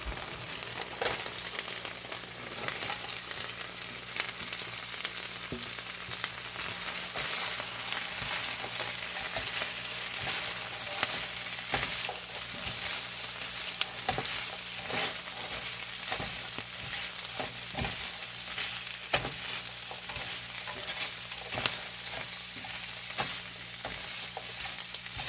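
Peppers, onions and cabbage frying in oil after pork was cooked in the same pan, a steady crackling sizzle with scattered pops and stirring clicks throughout.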